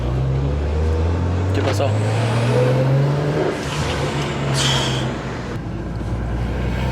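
A BMW 335i's engine hums and rises under acceleration as the car is driven, heard from inside the cabin, with occupants talking over the steady drone.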